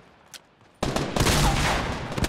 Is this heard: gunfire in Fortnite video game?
yes